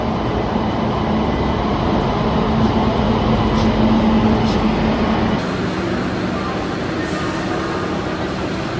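Howrah Pune Duronto Express at a station platform, giving a steady, loud rumble of train and platform noise that holds throughout, with a few brief high clanks and a slight drop in level partway through.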